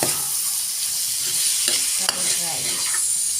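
Basmati rice with shrimp and chicken gizzard fries in a pan, a close, continuous sizzle broken by a few scraping stirs and a sharp utensil tap, with no talking.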